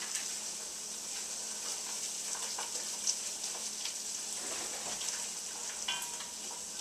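Homemade marinara tomato sauce cooking in a pan: a soft, steady sizzle and bubbling with faint stirring scrapes, quiet and continuous with no voices.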